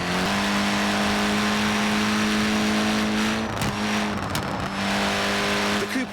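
A Mini Cooper accelerating hard close by, its engine note rising steadily and loud throughout, with a brief tire squeal or shift break partway through.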